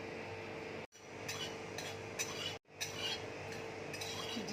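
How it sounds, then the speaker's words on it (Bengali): Cumin seeds dry-roasting in a kadai with no oil, stirred by a metal spoon that gives soft scraping and light clinks against the pan, close and quiet, with a few brief pauses. "কড়াইয়ের মধ্যে আমি জিরে দিয়ে দিচ্ছি। জিরেটা আমি নেড়ে নেবো"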